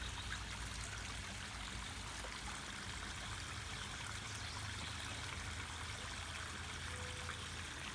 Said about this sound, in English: I like to sit and listen to the waterfall and watch my fish.